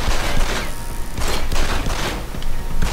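Dense gunfire in the Deus Ex: Human Revolution video game, a continuous stream of overlapping shots and bursts with a heavy low rumble, loud and close throughout with no talking.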